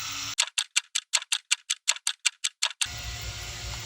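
Rapid metallic rattling from a pressure cooker on a kitchen stove, about fourteen evenly spaced sharp clicks in a steady rhythm, close and fairly loud, set between stretches of low room noise.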